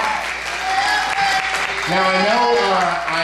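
Audience applause rises at a talk-show style interview with a political candidate, a broad steady wash of clapping heard alongside voices, with a host's speech audible over it in the second half.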